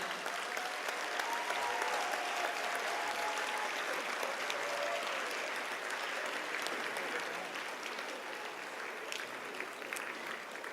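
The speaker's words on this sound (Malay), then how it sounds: "Berikan tepukan yang paling gemuruh buat ibu bapa dan para pensyarah kita" Standing graduates at a UPSI convocation ceremony give long, thunderous applause for parents and lecturers, a broad, sustained wash of clapping from a large crowd in a big hall, with faint voices underneath.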